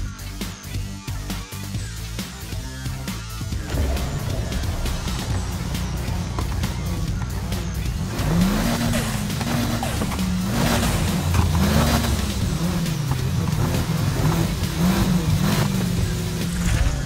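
A car engine revving and racing in Need for Speed Heat, steady loud roar with rising and falling gear-shift sweeps in the second half, game music and effects underneath, no talking.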